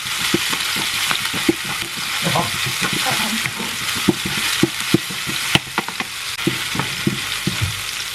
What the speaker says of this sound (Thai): ผัดผักบุ้งจ้า